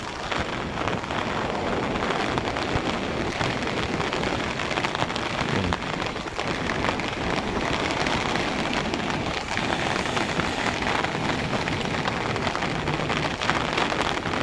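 Heavy typhoon rain pours down steadily and loudly during high tide, a dense unbroken roar of drops with gusts buffeting the microphone.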